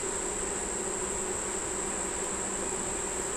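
Honey bees buzz steadily at a hive, a dense continuous drone with a high whine on top, close and even throughout with no voices.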